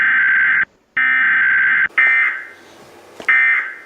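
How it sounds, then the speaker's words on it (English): Michigan's EAS emergency alert tone, loud harsh buzzing bursts broken by short gaps, with one burst cut off sharply and a faint pause before the final tone starts. "This next alarm is from Michigan."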